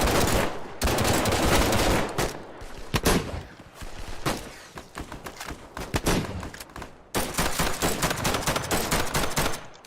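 Machine gun fire in the video game Operation: Harsh Doorstop: long, loud automatic bursts rattle almost continuously, broken by a few short gaps and single cracks, close and harsh throughout.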